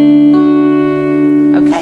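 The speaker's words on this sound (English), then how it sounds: "So just have a go at plucking those strings again." Guitar strings plucked together as a chord during a lesson on a song, ringing steadily with sustained tones, then a brief scrape of touch near the end; no talking.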